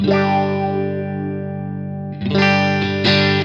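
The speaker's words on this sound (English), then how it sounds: "So I like it on the band pass filter around about halfway. That's the kind of filter sound that I like." A sustained electric guitar chord through an envelope filter on band-pass setting, with a resonant, swept filter tone, then a fresh strum partway through, loud and alone.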